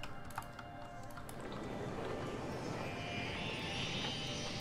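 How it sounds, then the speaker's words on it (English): A propeller airplane, a Junker, flies over a city in the game Cities Skylines, giving a steady broadband engine drone that swells and holds, with faint clicking at the start and no talk. "Oh, we got an airplane!"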